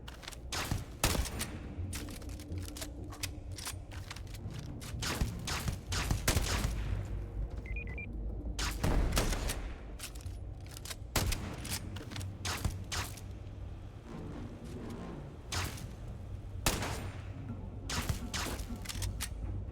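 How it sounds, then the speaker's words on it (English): Gunfire in the video game Starfield crackles in repeated sharp bursts and volleys over a steady background, with some shots close and loud and others scattered through the whole span. "Why are you guys shooting me?"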